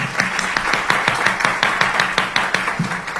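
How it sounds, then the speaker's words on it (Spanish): Audience clapping in a group at an in-person wholesaler training session, a steady run of sharp claps for about three seconds, fairly close and with no talk over it. "Dame un aplauso, por favor."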